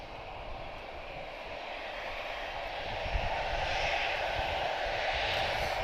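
A Finnair Airbus A320 departing Lisbon Airport for Helsinki produces a rising jet engine roar that swells gradually, with a broad hiss growing louder toward the end.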